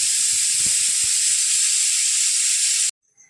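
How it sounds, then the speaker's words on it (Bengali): A pressure cooker holding potato curry lets off a loud, steady steam whistle and hiss that holds for about three seconds, then cuts off abruptly into near silence. "এটা আলু চচ্চড়ি সিটিটা পড়ছে, আলু চচ্চড়ি বসিয়েছি কুকারে।"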